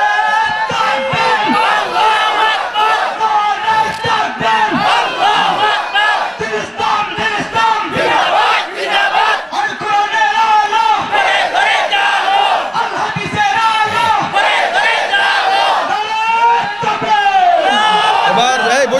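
A large crowd at a Bangla religious sermon gathering shouts in unison, loud and sustained, the massed voices rising in repeated waves with the harmonic texture of collective chanting throughout.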